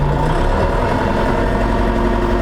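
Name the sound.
DTZ 504 tractor engine idling at 1500 rpm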